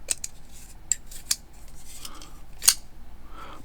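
A budget Harbor Freight liner lock folding pocket knife with thumb studs being closed, sharp metallic clicks and snaps, one louder click near the end, over quiet background.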